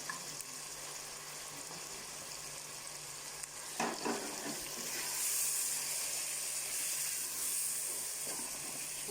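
Spices sizzle and hiss in a hot pan for a zucchini (turai) curry made without garlic or ginger, a steady close frying crackle that swells louder and brighter partway through, with no talk.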